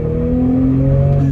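A 2020 Toyota Supra with a turbocharged engine pulls under acceleration, a loud, steady, close engine drone with rising tones and no voices over it.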